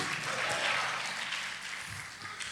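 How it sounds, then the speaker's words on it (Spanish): A church congregation claps for the Lord during a Spanish-language service, a dense, steady wash of many hands, moderately loud throughout with no voices over it. "Dele palmas al Señor, hermano."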